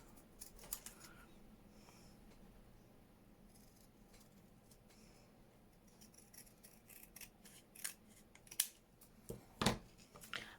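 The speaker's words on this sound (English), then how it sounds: "just going to cut this smaller January out to put on the front" Scissors snip paper while a small January label is trimmed out for the front of a handmade tag book. The cuts come as a few sharp, close clicks near the end, with quieter handling and rustling before them.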